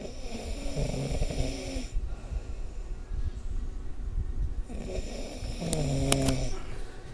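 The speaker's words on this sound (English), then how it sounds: "he's like snoring so hard right now" A sleeping man snores loudly and close by in two long, rasping breaths separated by a quiet pause.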